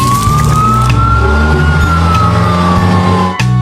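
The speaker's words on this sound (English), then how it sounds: "Red fire truck." A red fire truck siren wails loud and close, one long sustained rising-and-falling tone over a steady engine rumble, heard alone without talk.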